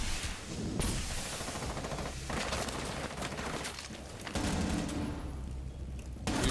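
Rapid gunfire bursts in a Rainbow Six Siege solo ranked match, loud and dense throughout, with sharp shots stacking over a busy game soundscape and a brief drop near the middle.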